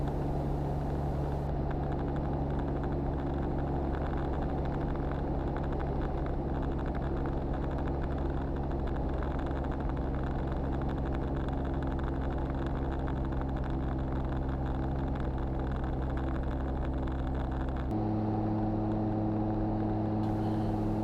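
A Calidus autogyro's engine drones steadily in flight, then the throttle is closed to descend and the tone drops to a lower, softer hum near the end; constant close cockpit noise without talk.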